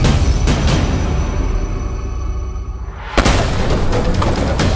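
Warning shots fired into the air by police during a drug arrest near railway tracks: loud, booming bursts over rough outdoor noise, with one abrupt sharp blast toward the end.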